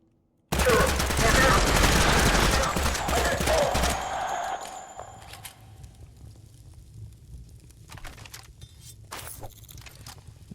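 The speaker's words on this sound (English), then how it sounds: "I was just holding down the shoot button." Rapid video game gunfire from a held-down trigger roars loud and dense for about three and a half seconds, then cuts to quieter ambience with scattered faint clicks and thuds.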